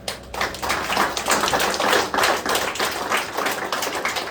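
A group of children clapping their hands together in a motivational class at Atal Seva Kendra, making a dense, steady patter of overlapping claps that runs the whole time with no talking.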